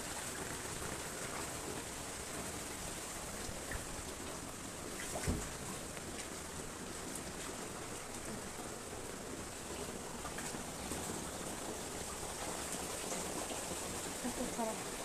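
Floodwater pours into a house through a woven bamboo screen, making a continuous rushing, splashing wash with faint voices in the background.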